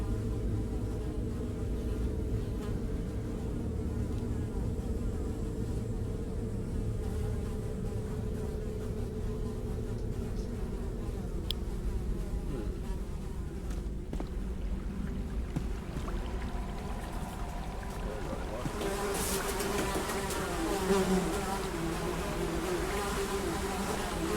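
Flies buzz in the video game The Secret of Weepstone, a steady insect drone that holds for the whole stretch over a soft ambient bed, growing busier toward the end.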